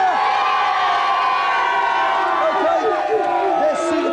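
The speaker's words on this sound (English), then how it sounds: "Give us a cheer." A TV game show studio audience cheers and whoops continuously, a dense, loud crowd roar with shouts rising over it throughout.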